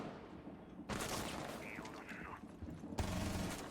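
Gunfire from a first-person video game shooter, with a sudden loud burst of rapid shots after a quiet start, then a second abrupt burst near the end, close and punchy.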